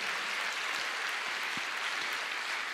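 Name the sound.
congregation applauding the Lord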